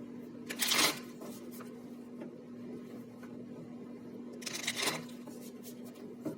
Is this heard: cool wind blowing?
no